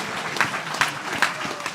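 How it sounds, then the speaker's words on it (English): Audience applause for panelists at a live industry awards event, a short burst of steady clapping from a crowd with a few sharper claps standing out. "warm round of applause for our panelists"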